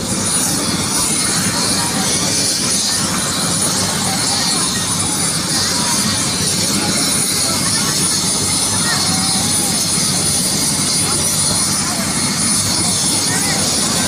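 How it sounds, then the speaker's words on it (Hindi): Helicopter engine idling on the ground before takeoff at an open field, a loud steady roar with constant rotor whine filling the whole stretch without break. "आप देख सकते हैं हेलीकॉप्टर अभी टेक ऑफ करेगा और पानीपत जाएगा सीधा"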